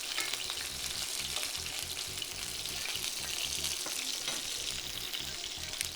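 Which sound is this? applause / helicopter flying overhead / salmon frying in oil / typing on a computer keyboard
salmon frying in oil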